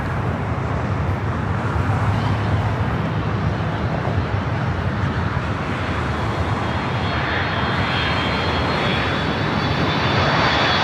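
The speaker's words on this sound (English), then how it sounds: "Back to the east, the Delta 757-200 coming in from SFO." A Delta Boeing 757-200 arriving from SFO comes in to land at LAX, its engines a loud, continuous broadband roar that holds steady throughout with a faint high whine on top.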